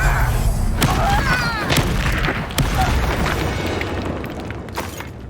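Booming Confringo explosive spell blasts in Hogwarts Legacy, several heavy thuds and bursts in quick succession over a dense, loud combat din, with sharp cracks standing out before the noise slowly eases.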